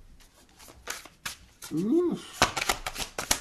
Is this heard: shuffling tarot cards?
yes